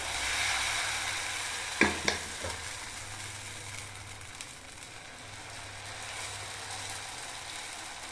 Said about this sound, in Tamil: இப்படியே தோசை ஊற்றணும்